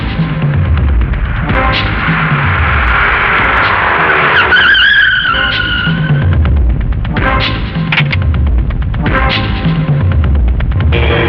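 A car pulls away hard with loud, sustained tyre squeal and skidding, the engine roaring throughout and the screech rising and wavering near the middle before the revving continues steadily to the end.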